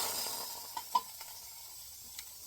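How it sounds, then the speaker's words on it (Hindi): Spices for tempering buttermilk sizzle quietly in hot oil, a soft hiss that fades away, with a few light metallic clicks from a utensil. "यहाँ पे मैं लगा रही हूँ मट्ठा में तड़का"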